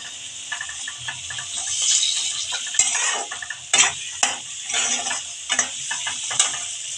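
Spice paste sizzles and fries in a pan for a winter vegetable dish with prawns, with a utensil scraping and stirring in irregular clinks and scrapes over a steady close hiss, no voices.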